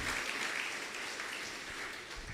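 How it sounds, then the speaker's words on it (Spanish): Congregation at a Spanish-language church discipleship service claps in a steady, moderate wash of applause, with a sharp louder burst at the very end. "Dale un aplauso fuerte al Señor"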